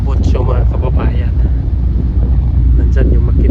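A ship's engine drones steadily in the background with wind buffeting the microphone, while people talk nearby aboard a passenger vessel.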